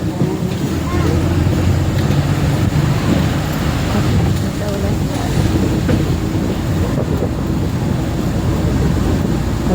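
Strong wind roars across a mountain ghat road on the way to Goa, a loud constant buffeting rush with low rumble, voices faintly present beneath.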